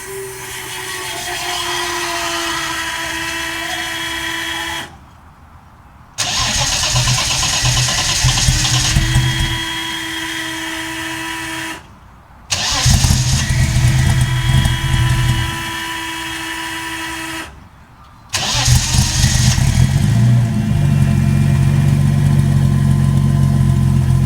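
A Holden VL engine cranks and catches repeatedly, with loud steady running stretches broken by three short pauses, settling into a rough, deep idle at the end.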